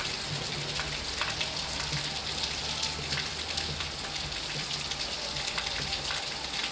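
A downpour of heavy rain keeps up an unbroken, broad hiss with faint spatters and splashes, steady and close, with no one talking.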